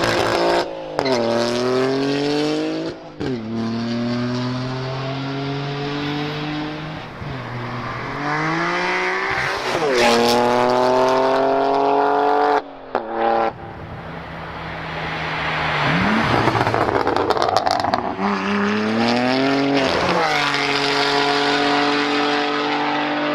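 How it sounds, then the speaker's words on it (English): Loud BMW M3 G80 exhaust with aftermarket valved exhaust open, revving repeatedly through rising gears, raspy and aggressive, with brief pauses between pulls and crackles on lift-off. "once you open up the exhaust, it's absolutely insane"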